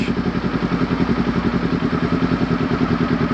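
A Kawasaki Ninja 400 motorcycle pulling away as the clutch is let out, its engine chugging in a close, steady, rhythmic pulse with a light mechanical clatter, loud and alone.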